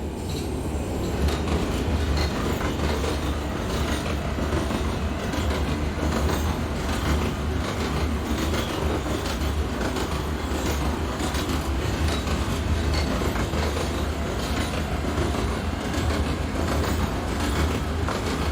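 An NYC Subway R142A train on the 4 line out of Grand Central runs steadily in the OpenBVE simulator, a loud continuous rumble of motors and wheels with faint rhythmic rail clatter throughout.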